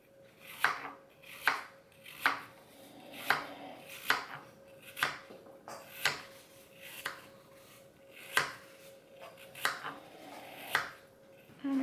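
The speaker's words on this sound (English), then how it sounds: "And then cut them into smaller pieces, these little wedges." A knife cuts apples into small wedges on a cutting board for a vegan apple pie, making about fifteen crisp, evenly spaced chops at a steady pace, close and fairly loud over a faint hum.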